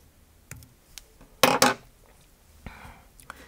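Scissors snip thread on a Woolly Bugger fly at a tying vise in two quick, sharp, close metallic cuts, surrounded by a few faint taps and clicks in a quiet room.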